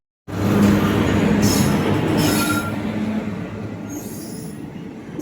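A passing train, an express on the Erode to Chennai route, rumbles loudly and steadily from start to finish with faint wheel squeals over the continuous rolling noise, no voices.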